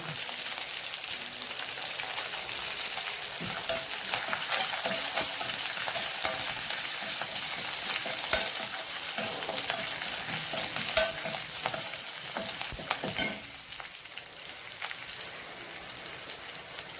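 Mustard seeds, dry red chillies, green chillies and curry leaves sizzle and crackle steadily in hot oil as a tempering for Andhra-style pulihora, with scattered pops and occasional stirring noises throughout.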